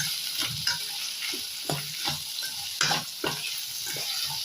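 Garlic and fresh curry leaves sautéed in a pan give a steady close sizzle of frying, broken by repeated scraping stirs of a spoon at irregular intervals.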